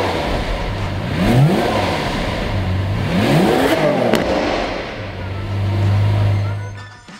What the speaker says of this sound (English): Would you like to hear the sound of that engine?